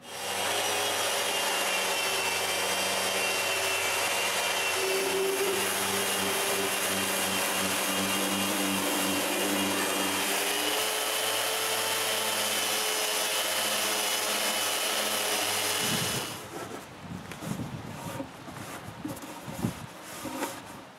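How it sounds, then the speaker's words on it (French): A power sander runs steadily on a wooden tablet for a woodworking project, a loud continuous whine for about sixteen seconds before it cuts off, leaving scattered clatter and handling noise. "je peux tout sabler"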